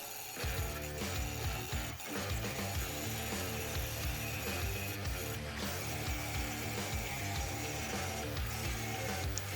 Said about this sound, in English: it's time to get the flap wheel and clean up all the welds and any sharp edges on